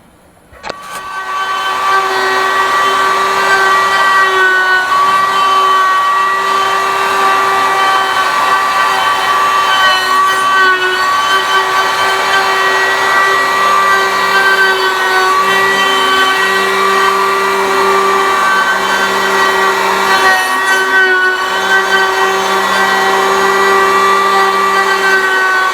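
A CNC router planing a table flat gives a loud, steady, high-pitched machine whine that starts after a brief quiet moment and holds unchanged and alone for the rest of the stretch.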